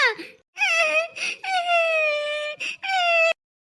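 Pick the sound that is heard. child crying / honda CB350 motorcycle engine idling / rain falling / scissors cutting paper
child crying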